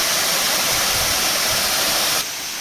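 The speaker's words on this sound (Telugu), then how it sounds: "అద్భుతమైన వాటర్ ఫాల్స్" Loud, steady roar of Gandatri waterfall in a forest on the Orissa border, dense rushing water filling the whole clip with no voices, dropping slightly in level near the end.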